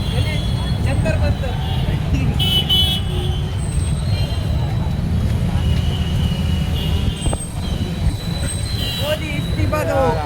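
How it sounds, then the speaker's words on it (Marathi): A roadside traffic jam with a continuous loud rumble of cars, buses and trucks, broken by occasional horn toots, with background crowd chatter throughout. "इकडे सगळी ट्रॅफिक झालेली आहे"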